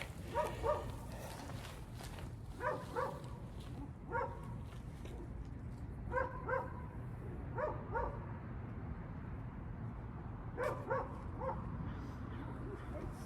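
A dog barks repeatedly outdoors during a run or walk, its short barks coming in pairs and small clusters at moderate distance over steady outdoor background noise.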